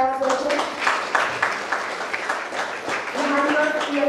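Audience clapping loudly after a prize announcement at an inter-school mathematics competition: a dense burst of applause that continues throughout, mixed with a voice and tonal sounds.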